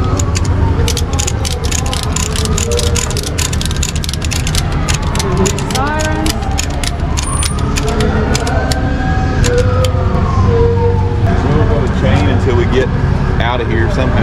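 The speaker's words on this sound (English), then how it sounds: "Sirens." A siren rises and falls somewhere in the distance, faint beneath loud mechanical rattling and clicking close by, with voices talking at times.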